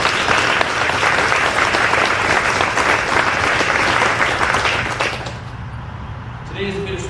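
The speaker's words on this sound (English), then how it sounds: "please join me in a round of applause for the outstanding soldiers of Fort 388." A crowd at a military change of command ceremony for an air defense artillery battalion applauds in a dense, loud, sustained wash of clapping that breaks off after about five seconds, leaving quiet room sound and a faint tone.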